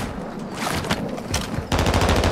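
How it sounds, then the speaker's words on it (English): Bursts of rapid automatic gunfire in a video game with sharp cracks, ending in a sustained loud volley of shooting, heavy and close. "gunshots to the right."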